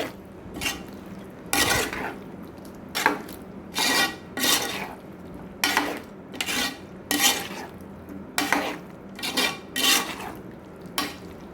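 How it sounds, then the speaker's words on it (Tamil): Chicken masala being stirred in a pan, a rhythmic series of about a dozen scraping, rasping strokes of a utensil against metal, each short and close, separated by brief quiet gaps. "இந்த மசாலா போட்டோன்னா லைட்டாக கொஞ்சம் பரட்டி விட்டுட்டே இருக்கணும்"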